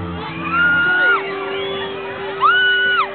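A crowd at the Marikina Amphitheater whoops and shouts in two bursts at a concert, with high cheering voices rising and falling over a steady background.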